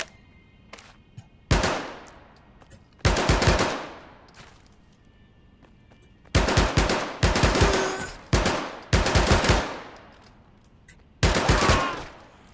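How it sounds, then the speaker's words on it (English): Bursts of MP40 submachine gun fire in the VR game Medal of Honor: Above and Beyond, several loud automatic volleys of varying length separated by short pauses, close and sharp. "MP40 doesn't go wild like other automatic weapons do when firing the entire magazine at once."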